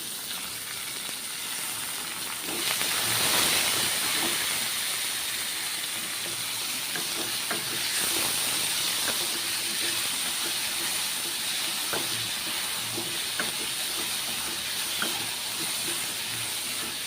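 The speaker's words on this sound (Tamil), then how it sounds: "நல்லா வதங்குது பாருங்கள்." Chopped tomato, green chilli and garlic sautéing in a pan, giving a continuous soft hiss and sizzle with a few faint utensil clicks, steady and moderately close.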